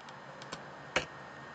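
Computer keyboard keys pressed for an Alt+Enter shortcut while coding an Android app: a few soft, close clicks over faint steady hiss.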